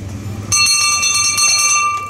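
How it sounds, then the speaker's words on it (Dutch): A bell rung as a start signal at a community event in Oosterhout: one bright, sustained ringing tone starts abruptly and holds steadily for well over a second, loud and close, with no talk. "Op het geluid van het bel, mogen we eraan beginnen."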